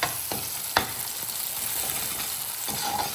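Chili powder and coriander powder are stirred into tomatoes frying in a pan, giving a steady, close sizzle with a few sharp spoon scrapes and taps. No voices are heard.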